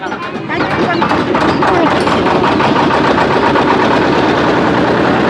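A river ferry boat's engine runs loudly and steadily at close range at a ghat in Murshidabad, a rough chugging drone that swells after a brief quieter start.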